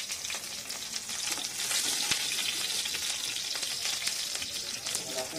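Cauliflower florets fry in oil until golden brown, a steady, fairly quiet bubbling sizzle that continues evenly throughout.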